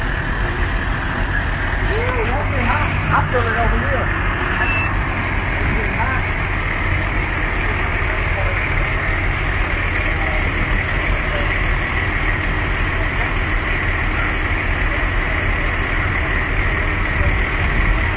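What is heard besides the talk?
fire trucks arriving and idling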